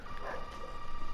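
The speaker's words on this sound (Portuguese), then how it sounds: "Olha os cachorros latindo aí" Dogs bark and yip faintly in the background, a short, soft burst of distant barking with no one speaking.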